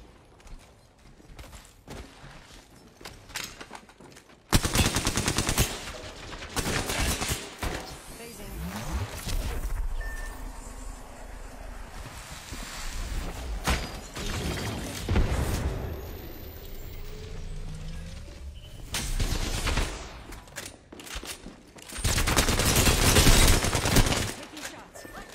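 Loud bursts of video game gunfire from Olympus crackle repeatedly over a dense mix of game effects, with heavy rapid volleys in the middle and near the end.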